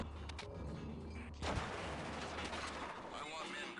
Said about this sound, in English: it's the generator that blows up on the other side when we put grenades through the wall